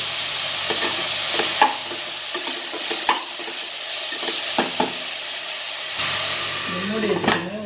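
Onions and tomatoes sauté with salt in a pan for vada curry, a steady close sizzle with occasional scraping stirs of a spoon against the pan, and a brief voice near the end.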